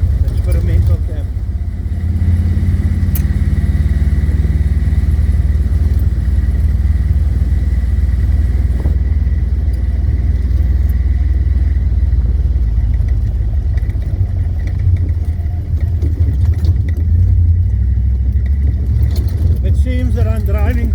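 Jeep driving along a road through scenic countryside, a steady, loud, low engine rumble with road noise, held at a constant speed throughout, while someone talks over it.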